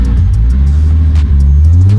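A Nissan GT-R engine held at full throttle around 4,000 rpm, a loud, steady, close-up roar with deep low rumble that wavers slightly in pitch, with no talk over it.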